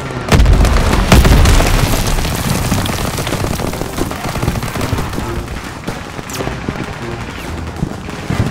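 A grenade blast in a WWII shooter game booms out near the start amid dense gunfire and machine-gun bursts, with the battle din rolling on loudly throughout.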